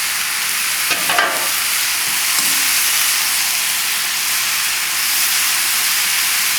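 Chow mein with bok choy, onion and bean sprouts sizzles in a hot wok, a steady loud hiss of frying with a couple of brief stirring scrapes near the start.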